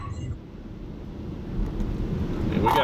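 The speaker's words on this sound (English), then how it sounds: "we got a full-fledged dust storm here in front of me" Strong wind roars and gusts through a full dust storm in Minden, Nebraska, driven by the rear-flank downdraft of a tornado-warned storm. It is a steady, loud rush with low rumbling buffeting on the microphone that builds toward the end.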